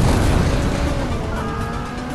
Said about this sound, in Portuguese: Nossa, essa explosão aí do poeira é muito forte.